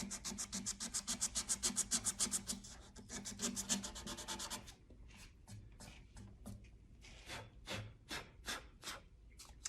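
A guitar fretboard is rubbed clean at close range, first with a rapid, even back-and-forth scrubbing rhythm, then with slower, separate scraping strokes, all fairly loud and with no voices.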